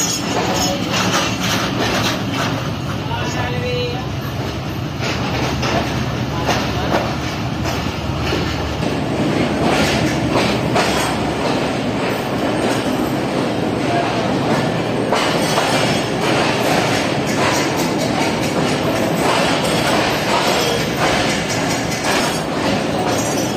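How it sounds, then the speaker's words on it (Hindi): The Tezgam passenger train rolls slowly into platform 2 at Rohri Junction with a continuous loud rumble, clattering wheels and intermittent squeals of wheels on rails, heard close and without voices. "काफ़ी स्लो अराइव कर रही है हमारी ट्रेन"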